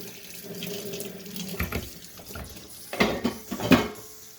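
Water runs from a sink tap while an item is washed beneath it, a steady splashing stream with louder bursts and faint clinks toward the end, close by and with no talking.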